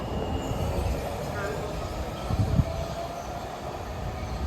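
DC Metro train at Arlington Cemetery station, a steady broadband rumble and hiss of the rail car with a brief louder clunk midway and murmur of people beneath.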